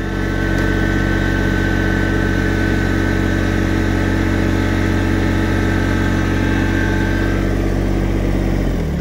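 A Kubota BX2670 compact tractor's engine runs steadily at a loud, close idle with a constant low hum, then winds down and cuts off near the end.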